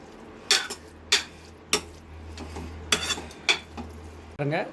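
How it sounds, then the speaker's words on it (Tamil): Onion and garlic mashed in a cooking pot for one-pot vathakuzhambu rice, giving several sharp utensil scrapes and clinks against the metal pot at irregular intervals over a low steady hum. "நல்லா இந்த வெங்காயம், பூண்டு எல்லாத்தையும் நல்லா அப்படி போட்டு நல்லா மசிச்சுக்கோங்க"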